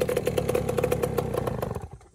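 A Yamaha PW80 dirt bike engine catches and runs with a rapid, busy two-stroke putter and some clatter, loud and close, before cutting off near the end.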